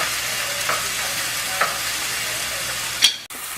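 Vegan bully beef sautéing in a pot, a steady soft sizzle with a few stirring scrapes, then a sharp clink near the end.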